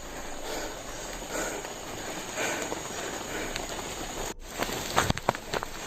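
Steady rain falls outdoors, a dense continuous hiss for the whole stretch, with a brief dip near the end followed by a few sharper, louder taps and splashes close by.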